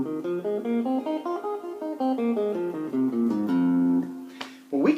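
A guitar plays a pentatonic scale as a run of clear single notes stepping up and back down, each note ringing distinctly and alone, close and moderately loud.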